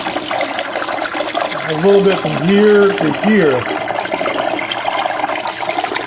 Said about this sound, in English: obviously it's creating that waterfall effect, which is making a lot of noise